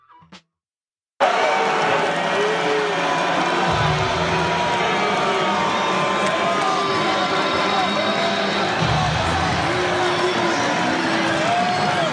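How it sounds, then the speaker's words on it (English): A large stadium crowd at a game boos the president, a dense, sustained roar of jeering voices that fills the space, loud and continuous after a brief quiet start. "they're actually booing the president because that is a thing now"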